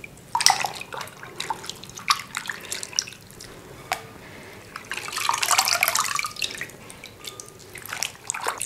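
Water splashes and drips in a sink while potato slices are washed, with bursts of running water and sloshing that swell louder near the end; no speech.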